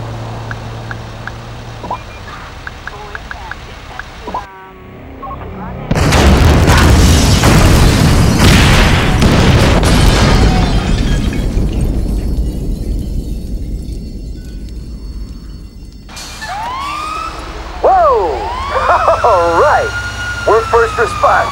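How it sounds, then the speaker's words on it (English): Incendiary bombs detonate in GTA V during the FIB headquarters mission: after a quiet stretch, a loud sudden boom erupts into a sustained roaring rumble, followed later by wailing emergency sirens, with voices talking. "Detonate the incendiaries, Frank."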